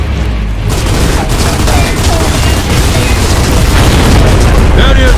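Loud mortar blasts boom repeatedly and densely in a battle scene from Gears of War: Judgment, with explosions, rumble and scattered gunfire running continuously throughout.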